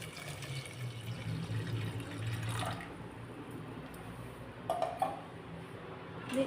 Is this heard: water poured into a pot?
yes